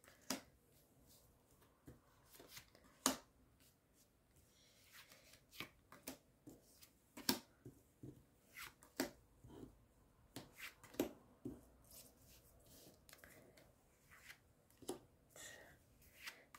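Tarot cards drawn one by one from a deck and laid down, a quiet close series of soft papery snaps and slaps at irregular spacing, with no talk over them.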